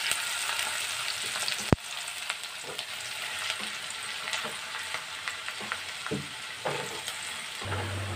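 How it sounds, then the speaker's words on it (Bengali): Chopped green chillies fry in hot oil in a pan for Paneer Manchurian, a continuous bright crackling sizzle with an occasional sharp clank and soft stirring scrapes. "এবার এটা আমি খুব ভালো করে ফ্রাই করব"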